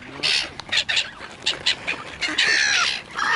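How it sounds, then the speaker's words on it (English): Canada geese honking in repeated bursts, fairly close and loud, with several calls overlapping against outdoor background noise. "I've got Canadian geese behind me."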